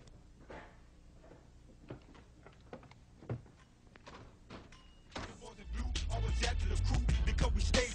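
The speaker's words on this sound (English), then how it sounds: "Open the motherfucking door." Door being opened during a tense scene, a couple of clunks and thuds among scattered knocks and shuffling, followed by a loud rush of background noise.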